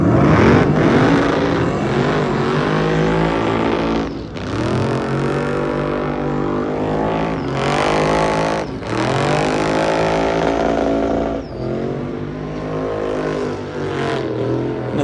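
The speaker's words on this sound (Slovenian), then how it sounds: "jaz še nikoli v lifeu nisem videl tovornjaka, ki bi driftal" A truck's loud engine revs and roars continuously with rising and falling pitch at a car show, tires screeching through drifting slides, with brief dips between bursts.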